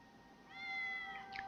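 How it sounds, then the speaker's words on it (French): A single short cat meow in the Batman: Arkham City video game, quiet and rising briefly in pitch, alone with no talk over it. "Miaou! Plein de lolcats!"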